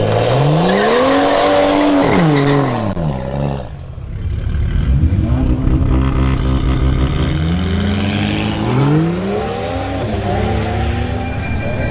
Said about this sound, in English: The next to make another run is Michael Carmona in his BMW 135i.